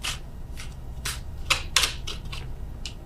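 Tarot cards are shuffled and drawn by hand, a quick series of crisp riffling flicks and soft slaps up close, with no talking.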